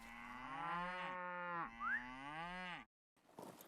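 Cattle lowing in Lord of the Rings Online, a long harmonic moo with sliding pitch lasting nearly three seconds, loud and close, followed by a short pause and faint rustle.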